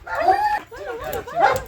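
A small young dog gives a few yelping, whimpering barks in short bursts, close by and fairly loud, alternating with brief pauses.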